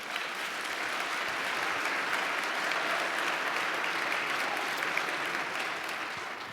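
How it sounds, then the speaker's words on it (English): A large audience at a festival talk applauds continuously, a dense, even wash of clapping that holds at a steady level for several seconds before easing slightly. "That's the first time I've ever gotten applauded."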